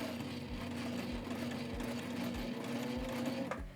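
A domestic sewing machine stitches fabric after a 90-degree turn with the presser foot lowered again, giving a steady close motor whir and a regular low thump about twice a second.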